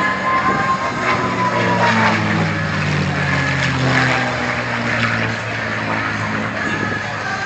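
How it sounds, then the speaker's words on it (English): A P-51 Mustang's Rolls-Royce Merlin piston engine drones loudly and continuously during an aerobatic display, its pitch sliding slightly as it passes, with no voices. "the engine that's in the majority of the P-51 Mustang is the famous Rolls-Royce Merlin engine"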